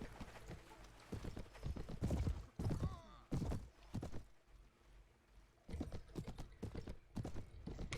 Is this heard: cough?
no